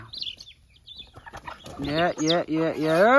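Chickens cluck and squawk up close while feeding, with short chirpy calls early on, then busier, louder clucking that builds toward the end.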